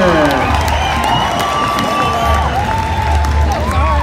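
A crowd at an Indian relay horse race claps and cheers, a loud, continuous roar with voices over a low rumble, likely from an announcer's loudspeaker.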